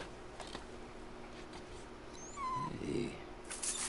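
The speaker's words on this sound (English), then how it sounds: "Oh, yeah, he's a lap dog. He's adorable." Dog in the video game Days Gone, giving a few soft, brief whines and whimpers close by over a steady game ambience, with a somewhat louder burst near the end.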